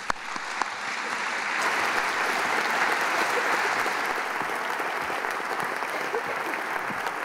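An audience at a science lecture breaks into sustained applause to welcome a professor to the stage, a dense roomful of clapping that stays level throughout with no talking.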